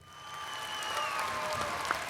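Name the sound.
audience applause sound effect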